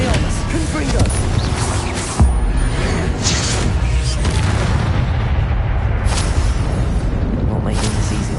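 A Confringo fire spell explodes in the video game Hogwarts Legacy with a sudden deep boom amid a loud, dense rumble of battle noise that continues throughout.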